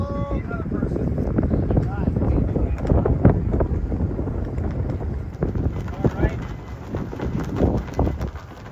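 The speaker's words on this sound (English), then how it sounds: "Wow, the wind is just picking right back up right now." Wind gusting by the harbor on Nantucket Island, heard as loud, buffeting rumble and microphone wind noise that rises and falls in gusts, with a voice speaking over it.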